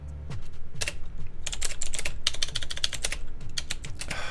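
Rapid, uneven keystrokes clatter close up on a worn computer keyboard, a dense run of clicks and taps with brief pauses between bursts and no voices.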